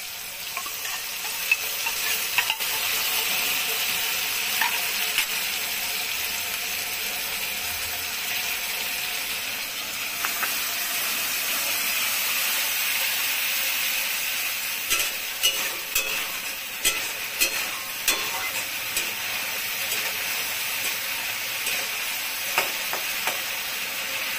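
Spices going into pabda fish cooking in oil in a pan, with a steady, close sizzle throughout and occasional sharp stirring scrapes and clicks, no talking.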